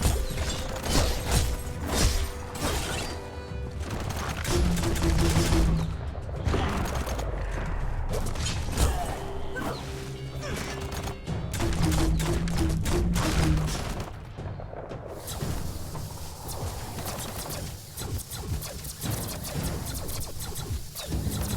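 Repeated gunfire and rapid bursts crack through a busy Biomutant combat scene, with mechanical clanks and creaks between the shots and a dense, loud, continuous barrage that eases off toward the end.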